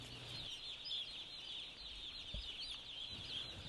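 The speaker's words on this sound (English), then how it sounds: "I got all these wonderful little chicks running around me" Many young chicks in a barn make a steady, dense chorus of high peeping and clucking, a close continuous chatter over low background rumble with a few soft thumps.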